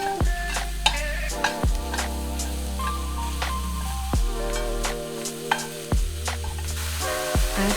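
Mushrooms sizzle in a pan while being stirred with salt and black pepper, a steady frying hiss broken by repeated scraping strokes of a utensil, close and clear with no speech.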